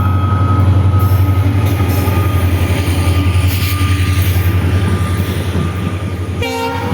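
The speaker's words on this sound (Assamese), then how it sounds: "তো গাইস ট্ৰেইনখন চাই থাকক ফুল স্পীড আহিছে" A train passes close by at full speed, a loud, steady roar of wheels and rumble with a sustained horn-like tone over it, ending in a brief high clatter.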